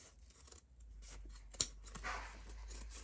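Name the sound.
scissors trimming fabric pieces apart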